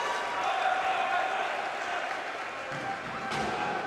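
Arena crowd at a wheelchair rugby Paralympic qualifying final in Wellington roars steadily after a steal, a sustained wash of cheering with faint court sounds.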